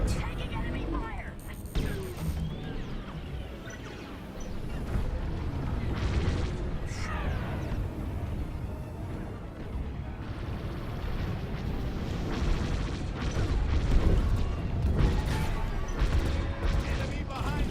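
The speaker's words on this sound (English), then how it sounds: "Taking enemy fire." Enemy fire and explosions batter a ship in a Star Wars space battle video game against Star Destroyers, a dense, loud, continuous barrage of blasts and impacts that keeps rumbling for the whole stretch.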